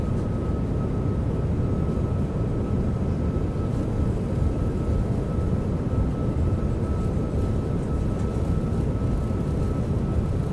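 Simulated PMDG 737 reverse thrust during landing rollout in MSFS 2020, a steady, dense low roar with a faint constant tone above, loud and unbroken throughout with no talk.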